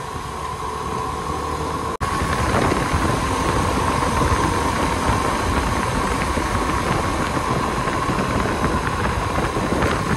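Suzuki V-Strom SX 250 motorcycle engine on the road, a loud, steady drone with heavy wind rumble throughout after a brief cut early on.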